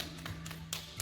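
Soft hand taps on the forearm during a guided self-massage, a few light, muffled pats spaced irregularly at close range in a quiet room, with no talking over them.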